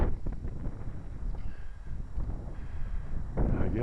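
Crosswind gusts over an asphalt RC flying field, a steady rumbling buffet on the microphone that swells louder near the end, with no voices.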